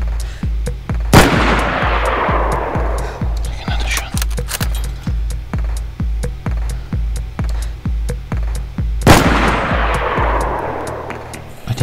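Gunfire in the DayZ video game: two loud, booming shots with long echoing tails stand out above a steady rhythmic thumping of rapid fire, and players talk throughout.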